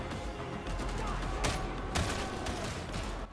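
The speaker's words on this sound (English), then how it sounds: "There are pew-pew sticks that shoot bullets," Guns fire continuously in the co-op game Darktide, with dense rapid shots forming a steady loud barrage and a couple of sharper cracks standing out.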